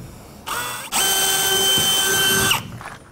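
A power drill bores a 1/4 inch hole in a wall for a plug: a short whirring burst, a brief pause, then a loud sustained high whine for about a second and a half before winding down.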